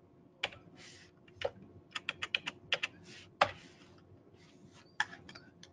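Bursts of computer keyboard typing, individual key clicks in quick clusters with short pauses, nearby and moderately quiet over a low room hum, no talking.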